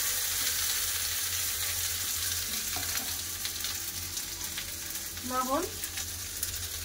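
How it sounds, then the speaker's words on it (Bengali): Tomato paste fries with bay leaf, dried chilli and ginger paste in a pan, giving a soft continuous sizzle, with a brief spoken word and faint stirring noises. "ভালো করে টমেটোটা কষে নেব"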